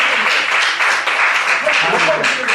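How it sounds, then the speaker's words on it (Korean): A church congregation claps together at a Korean worship service, a broad wash of applause heard close and continuous, with a few voices rising faintly through it. "다시 한번 박수를 한번 주세요."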